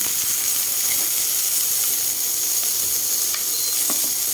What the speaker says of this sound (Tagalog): Igigisa na natin ito dyan